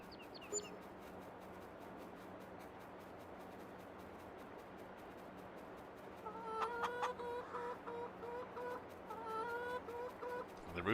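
Chickens clucking in Farming Simulator 22 in a Bavarian Forest farm setting. A low steady background gives way after about six seconds to louder, repeated clucks and short calls from several birds, close and with no speech.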